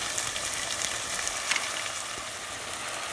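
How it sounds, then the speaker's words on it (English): Ground meat frying on high heat with onion and ginger garlic paste, a close, steady sizzle with crackling pops throughout. "give it a minute to fry with the onion and ginger garlic paste"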